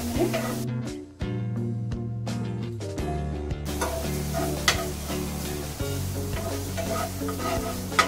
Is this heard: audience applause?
no